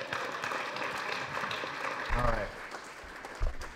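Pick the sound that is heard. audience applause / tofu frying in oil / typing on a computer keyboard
audience applause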